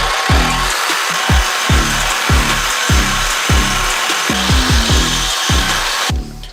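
Exhaust bolts on a BMW E46 are cut through with a saw, a loud, close, rhythmic back-and-forth rasping of about a dozen strokes that stops abruptly at the end.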